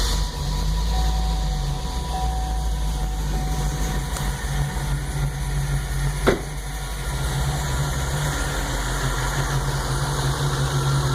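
A steady, low idle from an engine fitted with a PCV catch can rumbles continuously with a faint mechanical hum, broken once by a brief click.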